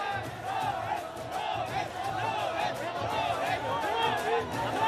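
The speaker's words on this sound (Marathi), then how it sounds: "प्रेमींकडून इंडिया इंडियाचा जय घोष यावेळी केला जातोय" A large crowd of fans at Mumbai airport chants in unison for the world champions' arrival, rhythmic shouting and cheering in a busy, echoing crowd.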